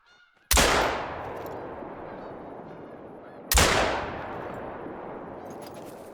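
Two loud 12-gauge shotgun blasts in theHunter: Call of the Wild while hunting a pheasant, spaced about three seconds apart, each with a sharp crack and long decaying outdoor echo.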